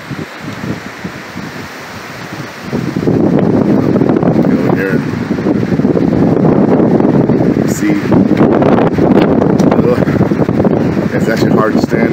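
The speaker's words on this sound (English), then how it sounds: "The wind is so strong" Strong Hurricane Hilary wind roars steadily outdoors in August 2023, loud and continuous after a quieter opening few seconds, buffeting the microphone with gusty rumble while a voice talks over it.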